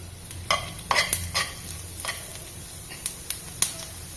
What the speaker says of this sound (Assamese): জিৰা দি দিছোঁ, তেল গৰম হ'ল আমাৰ।